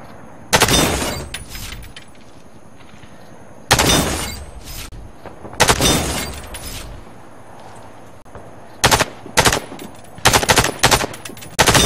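Rifle fire at training targets in the video game Warface comes in sharp, loud bursts of rapid shots separated by short quiet gaps, with no talk over them.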